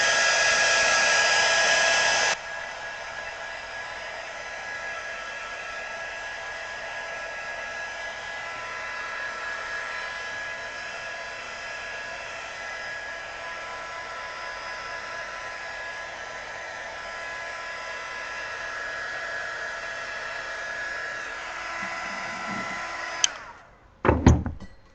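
A hair dryer blows steadily on a painted pumpkin, a loud, even, close whoosh that runs on and on, then shuts off with a few clicks and handling knocks at the end.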